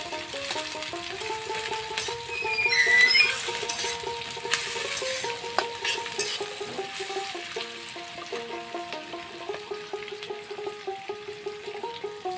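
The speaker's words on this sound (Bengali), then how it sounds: "অল্প ভাজা ভাজা করে নেব পেঁয়াজটা।" Chopped onion with bay leaves fries in oil in a pan, giving a steady close sizzle broken by scraping stirs, with a gentle melodic background tune playing throughout and no talking.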